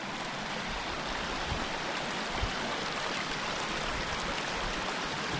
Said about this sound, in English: Check this little creek out.